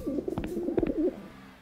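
Pigeons coo in the video game Randal's Monday, a few soft throaty calls at close range, with a low background hum beneath them and no talking.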